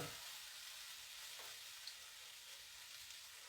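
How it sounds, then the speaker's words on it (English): Shrimp hissing in a hot pan during a lemon garlic stir fry, a constant soft sizzle heard up close with faint stirring movements and a tiny pop, no voices. "So I'm just going to throw the shrimp in there and get started with this."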